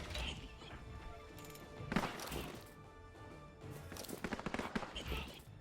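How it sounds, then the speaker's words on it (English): Musket return fire in the Bonaparte strategy game crackles in scattered bursts of sharp shots, with a louder volley near the start and a denser, ragged cluster later, all faint and set against background sound. "Beautiful return fire"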